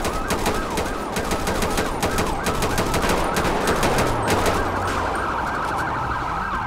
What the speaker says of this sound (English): We have Elio shots fired. Driver's down outside of vehicle. Shots fired.